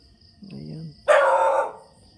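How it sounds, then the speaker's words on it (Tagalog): A dog barks outdoors at night, one loud, rough bark that rises abruptly and hangs briefly, heard fairly close after someone speaks quietly. "Pinahulan tayo ng aso."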